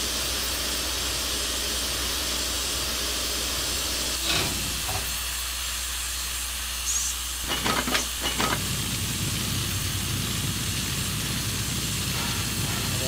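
Continuous broad steam hiss from a Southern Ps-4 #1401 steam locomotive in Trainz Railroad Simulator 2019, steady and loud, with a few brief clunks and bursts midway and no talking.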